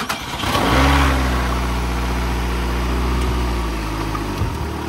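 A Ford F150 truck's engine revs hard and holds a loud, sustained roar during a burnout on a trailer, close and steady for several seconds before easing off.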